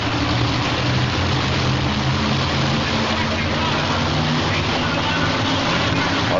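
At a 1988 indoor truck pull, a pulling truck's engine roars continuously and loud, a dense, heavy drone filling the arena with no pauses, while an announcer talks over it.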